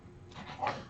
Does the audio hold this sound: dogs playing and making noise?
yes